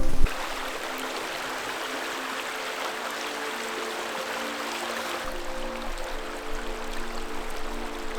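A steady rush of flowing river water, constant and fairly close, with a low hum running underneath and no voices.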